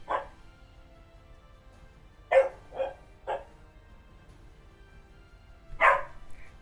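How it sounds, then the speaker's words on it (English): Dogs barking outside, a single bark followed by a quick cluster of three and another bark after a pause, moderately close against quiet background. "mainly the dogs that are barking outside"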